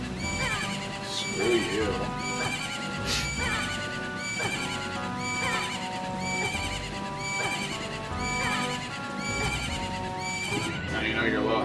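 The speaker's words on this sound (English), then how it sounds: "Now you know your low health noise Is a horse." A horse whinny serves as the low-health warning in the Majora's Mask Randomizer game, repeating in a steady loop of high neighs with clip-clop beneath, loud and continuous while a voice briefly speaks over it.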